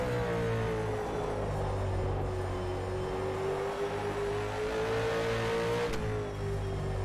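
A number 17 Supercar roars up from behind in rFactor 2 at Sydney Motorsport Park at night, its engine holding a steady loud drone with a slowly rising then falling pitch, no talking.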